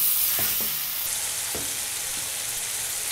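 Washed chicken being mixed in a hot pan for chicken roast, a loud close sizzle with a few knocks and scrapes of the spoon against the pan.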